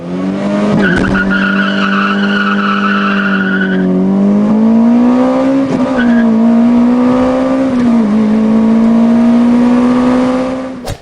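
A naturally aspirated Toyota four-cylinder engine tuned by Yamaha, redlining around 8200 rpm, revs hard and loud at close range, holding a high sustained wail with brief dips and pulls across the whole stretch.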